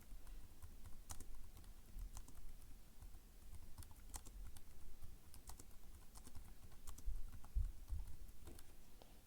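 Quiet, steady typing on a computer keyboard while entering text into a Word document, with rapid irregular key clicks running throughout at close range and no talking.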